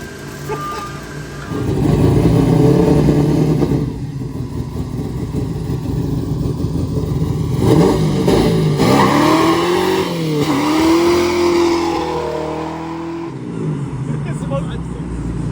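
A Chevrolet Nova street car engine fires up and revs, loud and rough with rising and falling pitch sweeps over steady rumble, while people talk nearby.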